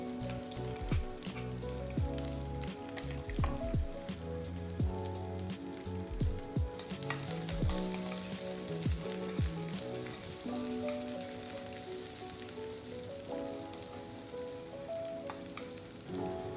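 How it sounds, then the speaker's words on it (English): Onions sizzle in hot oil in a kadhai, a steady crackling fry with scattered pops and spatters, close and continuous, with no one speaking. "I started with a little oil in the kadhai, and once it was hot, I added some onions and let them saute just for a minute."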